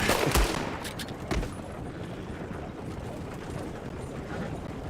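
Gunshots in the western game Red Dead Redemption 2, two or three sharp shots near the start, then a steady rumbling ambient background with no further firing.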